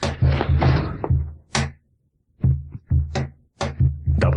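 A door thumps shut, followed by heavy knocks or latch clunks, several close, loud, dull impacts in irregular bursts with brief silent gaps between them.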